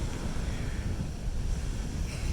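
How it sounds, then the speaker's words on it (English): Big ocean surf at a beach in Phuket, Thailand, makes a continuous broadband roar, heavily mixed with wind buffeting the microphone, for a couple of seconds with no talking. "You can see the waves are actually really big here"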